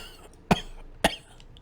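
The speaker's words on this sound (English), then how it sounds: "He's coughing." A man coughs twice, two sharp loud bursts about half a second apart, with a quiet background between them.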